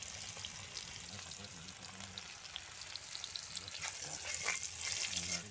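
Onions and tomatoes with turmeric and salt fry in a pan for a curry, giving a steady close sizzling hiss with faint crackles throughout and no talking.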